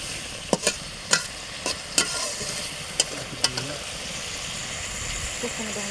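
Fish curry with chopped coriander leaves is stirred in a pan in a village kitchen. Sharp, irregular spatula knocks ring out over a continuous low sizzle.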